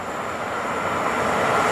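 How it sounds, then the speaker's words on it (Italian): Train passing through the station at Carimate, Italy, a loud steady rumbling roar with a broad rushing hiss, close and continuous, slowly building in intensity across the moment. "treno in transito al binario 2"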